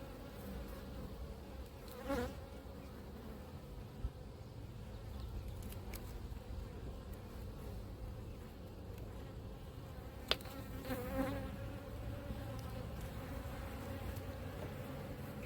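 Honeybees buzz continuously around an opened hive in an apiary late in the season, a dense close drone with individual bees passing near the listener, and no talking.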